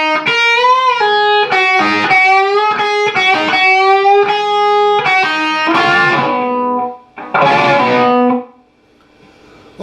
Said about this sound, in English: Next measure of the solo will stay at this 5th position and will be like,